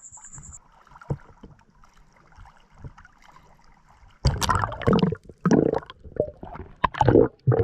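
Water sloshes and splashes against a moving large boat at sunset in bursts, getting louder partway through, with a low engine or hull rumble underneath and no talking.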